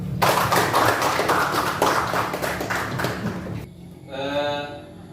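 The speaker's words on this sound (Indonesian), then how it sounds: "tepuk tangan untuk kita semua" Students in a classroom clap together in a dense, loud burst lasting several seconds, which stops abruptly before a voice speaks briefly.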